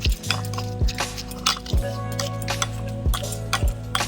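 Jamun fruit with sugar and black salt being mixed in a bowl, repeated clinks and taps of a utensil against the dish in an uneven rhythm, close and clear.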